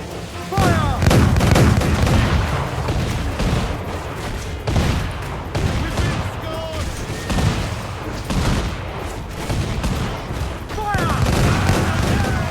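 Gunfire and cannon fire during a naval battle in Assassin's Creed IV Black Flag, dense booming volleys and crackling shots rolling continuously, loud and close, with someone talking over them.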